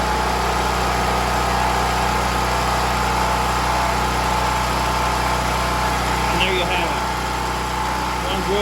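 A Champion portable generator engine runs smoothly at a constant idle, a loud steady drone with even hum and no surging. Brief speech sounds near the end.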